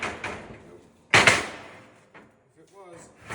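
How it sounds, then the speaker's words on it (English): A single sharp metallic bang rings out as a hammer strikes a weld on an ATV cart, loud and close, with a brief decaying tail and faint voice afterward. "let's hit it with a hammer."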